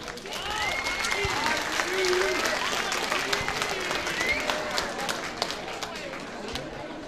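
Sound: audience applause for Heidi and Marion

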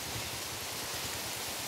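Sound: rain falling

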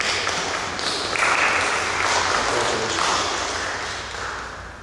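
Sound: church congregation applause

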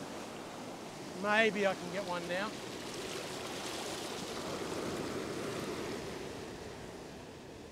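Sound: ocean waves breaking on the beach

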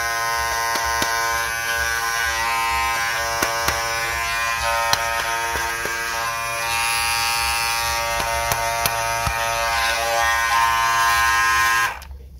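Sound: Andis Master Cordless hair clipper running

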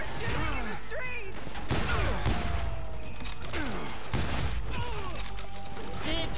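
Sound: gunfire in the street in the video game Call of Juarez Gunslinger

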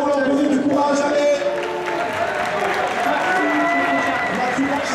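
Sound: audience applause for players at Soulcalibur 5 finals

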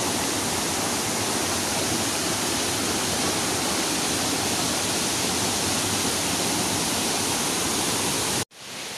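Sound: waterfall Curug Sawer Nambo, Bogor, West Java

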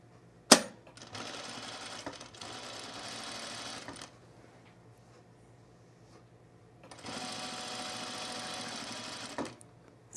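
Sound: sewing machine stitching a seam on culottes

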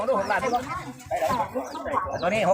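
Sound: chicken clucking

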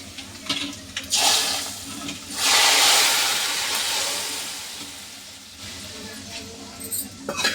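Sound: tempering poured into radish onion sambar

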